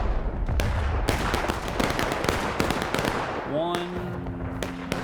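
Artillery cannons firing in the Civil War game War of Rights on the Hagerstown Turnpike map: a dense run of sharp booms and cracks, some near and loud, others distant, with a whistling tone rising near the end.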